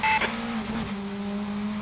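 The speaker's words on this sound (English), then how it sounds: "Car on your right." Race car engine in the Assetto Corsa racing game, a Praga R1 at Spa, droning steadily with another car briefly passing close by near the start.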